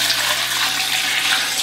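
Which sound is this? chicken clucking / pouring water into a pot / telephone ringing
pouring water into a pot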